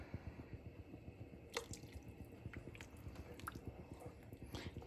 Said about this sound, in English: I think I'm going to add just a little more water